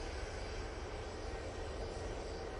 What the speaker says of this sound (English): Ryanair 737-800 now coming on.